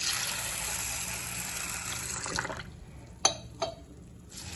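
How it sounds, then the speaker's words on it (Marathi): Sago pearls are rubbed by hand in a bowl of water, a steady watery rush that thins into quieter sloshing and a few sharp splashes, close by. "असं चोळून चोळून व्यवस्थित साबुदाणा धुवून घ्यायचा आहे।"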